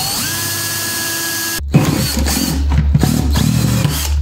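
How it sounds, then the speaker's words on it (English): A power drill spins a 2-inch hole saw into a plastic bucket: a steady whine rising in pitch, then a jump to a louder, grinding, chattering cut as the saw bites, close and alone. "So I've got a 2-inch hole saw, which I will drill into the"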